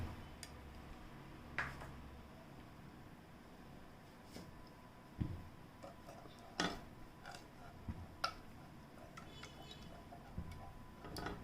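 Gas stove igniter clicking in a home kitchen while milk peda is being made, a few sharp ticks scattered over a steady background hiss, close and fairly faint.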